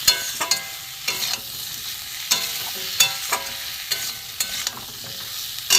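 Pointed gourd and potato pieces, fried earlier, are stirred and sautéed in a pan: a spatula scrapes in repeated uneven strokes over a soft sizzle, close up, with no talking.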